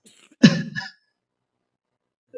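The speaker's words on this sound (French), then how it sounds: "Je m'excuse car je tousse un peu à cause du changement climatique" A single short cough close up, followed by silence.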